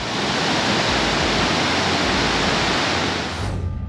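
A swollen river in flood, its water level still high, rushes with a loud, continuous, close roar that cuts off abruptly at the end, with no voices.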